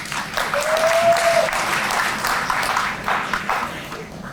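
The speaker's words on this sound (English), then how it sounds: "Another round of applause for him as he comes." A crowd applauds steadily at a police district community relations awards ceremony as a priest approaches, with a brief tonal whistle-like sound early on amid the clapping.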